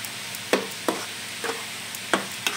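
Fish with spices, tomato and oil being stirred and fried over medium heat in a pan, with soft sizzling under a handful of distinct scraping stirs spaced irregularly, close by and with no talk.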